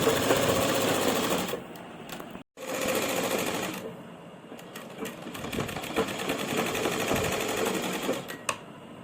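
A sewing machine stitches around the back neckline of a kameez in a long, steady whirring run, stops briefly, then carries on with a rapid mechanical chatter close by.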